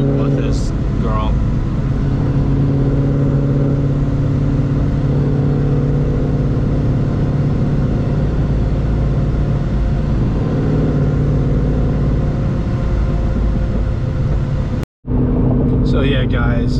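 Roush Stage 3 Mustang with a supercharged V8 cruising on a hot day, steady low engine drone and road rumble throughout, with a brief dropout near the end.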